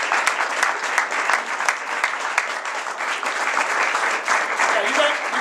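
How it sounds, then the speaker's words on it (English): A crowd applauds loudly at a university press event announcing a new football coach, with continuous, dense clapping and scattered sharp claps standing out, plus a few faint voices underneath. "Let's give him a round of applause."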